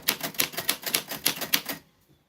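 Typewriter keys clack in a steady run of about a dozen crisp strikes, close and fairly loud, ending in quiet.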